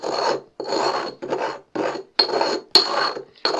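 Sugar and bicarbonate of soda ground together by hand, a close rasping scrape repeated in about seven even strokes with brief pauses between, no talk.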